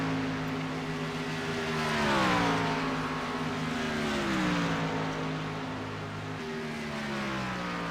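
Race truck engine droning steadily on a warm-up lap at Talladega superspeedway, a continuous loud drone whose pitch sweeps gently up and down through the clip with no talk.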